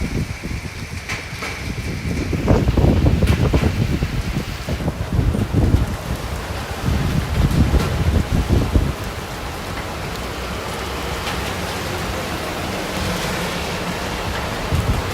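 Strong wind roars and gusts during a plains storm with hail, loud broadband rushing that swells in surges over the first nine seconds, then settles into a steady, slightly quieter drone.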